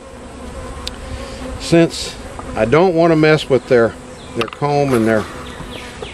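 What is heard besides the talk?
honey bees buzzing at hive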